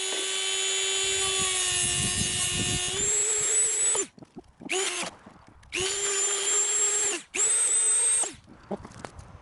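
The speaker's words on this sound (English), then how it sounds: "we're going to get the Dremel out and cut off all this excess bit of carbon" A Dremel rotary tool trims excess carbon fibre from custom wheel arches for an Alfa Romeo 159: a loud, steady high-pitched whine cutting through the material in several bursts, separated by short pauses and brief touches.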